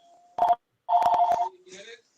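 A home telephone being dialed, with a few short touch-tone beeps in quick succession, close and clear, followed by a faint ringing or line tone.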